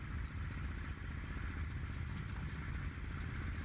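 A simulated FW-190 piston aircraft engine at full power in Flight Simulator 2020 roars in a loud, steady, rumbling drone throughout.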